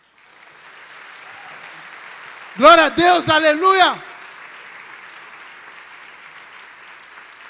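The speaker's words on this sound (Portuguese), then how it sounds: "Dê uma salva de palmas." Applause from a church congregation runs as a low, steady bed of clapping under a loud, close voice that briefly calls out in praise before the clapping carries on alone.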